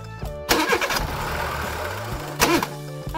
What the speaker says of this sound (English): Our bus stalled.